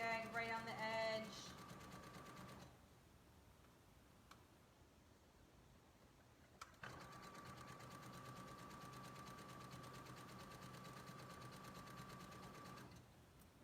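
A sewing machine zigzag-stitching along a fabric edge while sewing a dress, making a steady mechanical whir with fine rapid ticking. It starts briefly, pauses, then runs again for a long stretch at moderate level.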